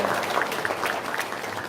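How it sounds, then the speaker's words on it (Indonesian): A crowd claps together in a brief burst of applause, steady and fairly loud, lasting just under two seconds. "Tepuk tangan dong"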